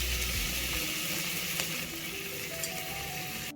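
Onions, curry leaves and asafoetida sauté in a hot pan for a tomato gojju, a steady close hiss and sizzle with a sharp clatter at the very end.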